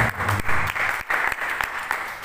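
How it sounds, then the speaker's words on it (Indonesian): A church congregation applauds at the close of a sermon, a steady wash of clapping from many hands that fills the room for a couple of seconds. "Beri tepuk tangan."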